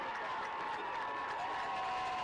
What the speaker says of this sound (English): You got people waving their hands. You got people standing up and clapping.